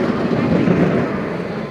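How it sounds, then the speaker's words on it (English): A steady rumbling rush of a tram rolling along rails, fairly close and continuous throughout. "This is perfect timing. Tram."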